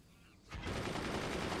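Sniper gunfire in the strategy game Forts: a sudden loud burst of shots kicks in after a quiet moment and carries on as a dense rattling volley, with no talk over it.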